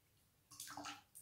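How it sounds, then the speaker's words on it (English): Water poured from a spoon back into a bowl, a short close trickle and splash that starts partway in, with a brief second splash at the end, alone with no talk. "What if we used a spoon and poured it back into the bowl?"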